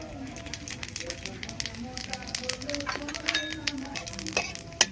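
Dry red chilies and cumin fry in hot oil with a light, crackling sizzle and scattered pops, joined by occasional clinks of a utensil while someone speaks over it.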